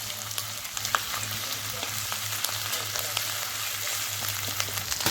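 Chopped onion frying in oil in a pan for a Bengali rui fish kalia, a steady close sizzle running evenly throughout with a low hum beneath and no talk.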